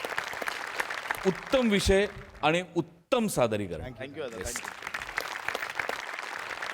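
An audience claps for performers at a Marathi stage show, with bursts of clapping at the start and end and someone speaking over the middle.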